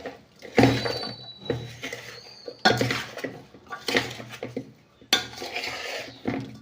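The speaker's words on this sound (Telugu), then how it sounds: "ఇది కూడా వేసుకొని కలుపుకుందాం బాగా" Avakaya mango pickle is stirred in a large metal bowl, spoon scraping and clanking against the sides in repeated close bursts with short pauses, no voices.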